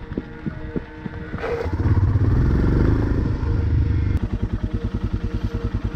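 A touring motorcycle, stuck during a camping trip through Norway, revs hard at full throttle while being pushed, its engine roaring loud and close with clattering, then settling into a rapid pulsing idle.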